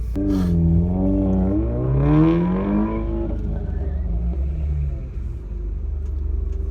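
A car running an autocross course, engine revving up and easing off in a harmonic whine that rises and falls through corners, heard from a distance over a steady low rumble.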